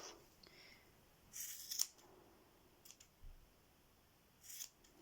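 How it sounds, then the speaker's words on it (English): Scissors trimming loose tassel threads on a handmade keyring, a few quiet close snips and soft rubbing between them, faint and without talk. "just go along and just trim off any bits that look like they're a bit too long"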